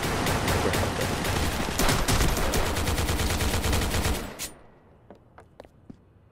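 Rapid pistol gunfire in the Roblox video game, a dense loud burst of repeated shots for about four seconds, then a few sparse isolated shots trailing off.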